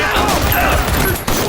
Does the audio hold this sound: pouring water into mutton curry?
no